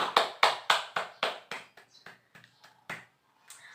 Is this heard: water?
no